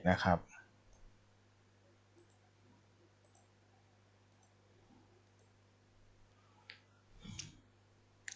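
Computer mouse clicks while working on a desktop folder, a sharp click at the start and a couple more near the end, faint and close over quiet room hum.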